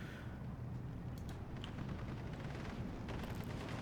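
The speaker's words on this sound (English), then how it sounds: "These guys are now firing in this sector." Steady rumble of distant gunfire and artillery crumps in a Steel Division 2 battle, with a few sharper cracks rising above a dense, continuous low roar of combat throughout.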